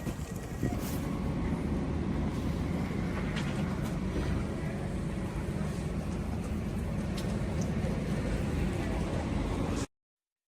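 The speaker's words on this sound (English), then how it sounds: "I'm just it. on the train to Cambridge." A train ride to Cambridge carries a steady, broadband rumble of the moving carriage with faint wind-like noise throughout, cutting off abruptly at the end.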